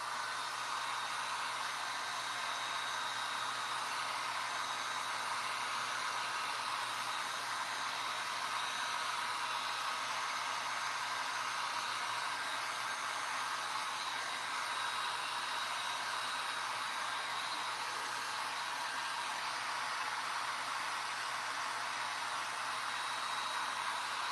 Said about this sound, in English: I'm going to do a hairdryer really quick so you guys can see that